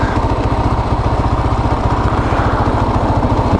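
Motorcycle engine running loud and near with a fast, even low throb, a steady idle-like pulse with no revving and no voices.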